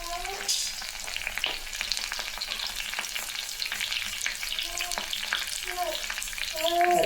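Green chilies and curry leaves fry in hot oil while tempering sambar, a crackling sizzle with occasional stirring scrapes, close and fairly quiet.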